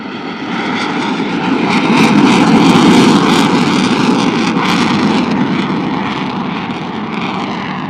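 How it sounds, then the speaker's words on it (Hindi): A Pakistan Air Force F-16 fighter jet flies past the saluting dais at low speed during an air force academy passing-out parade, producing a loud sustained roar that swells and slowly fades. "पाक फिजाइया का F-16 इस वक्त सलामी के चबूतरे की जानिब गामजन है।"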